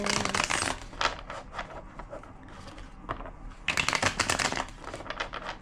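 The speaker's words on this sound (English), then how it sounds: "Two more shuffles." Rapid papery riffling of a card deck being shuffled up close, in two dense bursts separated by quieter handling and soft card sounds.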